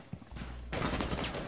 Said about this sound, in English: I'm getting shot from the right side